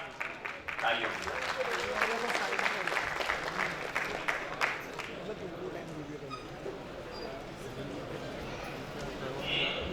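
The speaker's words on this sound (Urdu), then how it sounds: "زوردار تالیوں" Crowd clapping at an All India Sufi Conference, a sustained round of applause from the audience with a voice talking over it.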